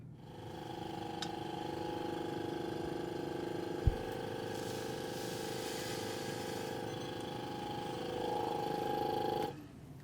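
Dustiness assay equipment runs on an improved granular product with a steady mechanical hum and whine, one sharp knock partway through, before cutting off near the end.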